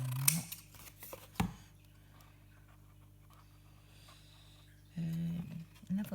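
Scissors snip and tear paper during a handmade envelope mini-album craft, giving a few short, quiet, close cuts separated by near silence, with a longer rustling burst near the end.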